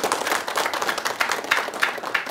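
An audience applauds a religious speaker in a televised Islamic sermon program, a steady burst of many hands clapping throughout, fairly close and even in loudness.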